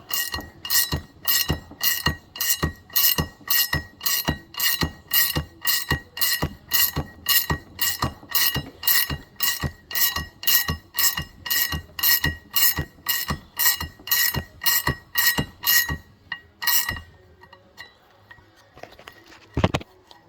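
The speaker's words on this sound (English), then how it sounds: "If you have a ratchet wrench, you put that on there." A ratchet wrench clicks in a steady, rapid run of sharp metallic ratcheting strokes while it tightens a screw on a Can-Am 3-roller secondary clutch. The strokes are close and loud for about seventeen seconds, then one brief clink follows near the end.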